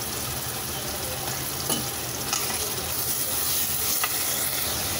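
Tomatoes and curd sautéing in a pan for mushroom biryani, a soft continuous sizzle and hiss with a few faint scrapes of a spoon, close but subdued and free of speech.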